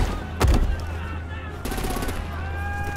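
Gunfire from the Batman: The Enemy Within game, with a loud sharp burst early on and rattling shots over a steady low rumble of game ambience and music, some background voices mixed in.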